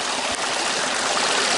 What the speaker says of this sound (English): as you can tell, that's how the sluice box operates. Water goes in the front, it hits these ripples